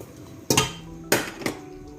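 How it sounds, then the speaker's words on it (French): A spoon clanks three times against a cooking pot while gombo (okra) sauce with oxtail and salted fish is stirred, the sharp metallic knocks spaced apart over a quiet background. "Voilà, je mélange."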